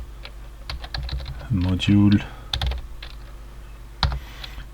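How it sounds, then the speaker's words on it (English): Close, quick tapping on a computer keyboard while code is typed in the Greenfoot programming environment, in an uneven rhythm with a brief denser flurry in the middle and someone speaking softly over it. "As a parameter we type the name of the key."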